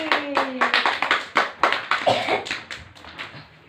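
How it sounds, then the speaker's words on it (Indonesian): Pupils in a third-grade classroom clap for a classmate heading to the front, a loose run of individual claps from a small group, irregular and close, with a brief voice at the start. "Tepuk tangan dulu buat Hafiz."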